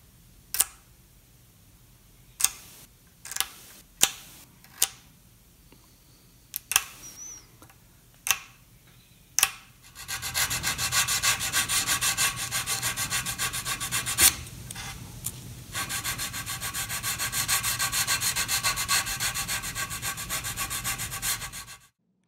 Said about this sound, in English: After I finish scraping the sides to create this faux binding